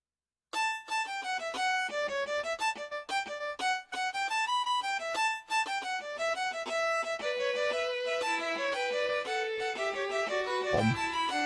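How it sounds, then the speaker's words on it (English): Wind God's Aria from the Zelda game Wind Waker plays as a bright, plucked melody of steady, evenly spaced notes, loud and close throughout, with no talking over it. "Wind God's aria sounds like this"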